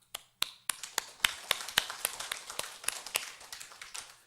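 Sparse, fairly steady hand claps in a church during a sermon at Geumgwang Church, sharp individual smacks roughly four per second that sound like a few people rather than full applause, moderately distant and quiet, with no talking over them.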